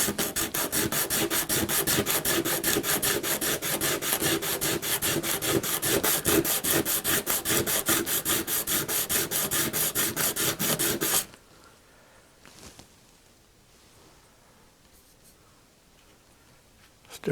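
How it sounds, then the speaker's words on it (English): Steady, rapid rasping of sanding against the hard edge of an arcade circuit board for about eleven seconds, loud and close, then it stops, leaving quiet room noise with a few faint knocks. "It's sanding it down on the ends"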